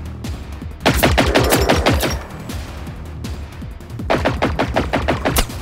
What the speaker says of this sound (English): I shot the wrong one.